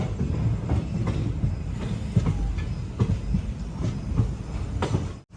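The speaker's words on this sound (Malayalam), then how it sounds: "വളഞ്ഞാ പോകുന്ന ട്രെയിൻ." The Vanchinad Express runs on a curved track toward Ernakulam, a steady rumble with rhythmic wheel clatter from inside the train.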